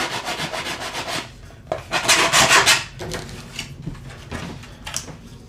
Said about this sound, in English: Just gives me a nice little homemade tool for sanding